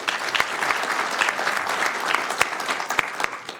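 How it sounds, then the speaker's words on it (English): Steady applause from the audience at a Sacramento city council meeting, a dense wash of clapping with occasional sharper nearby claps standing out. "Let's give him a big round of applause."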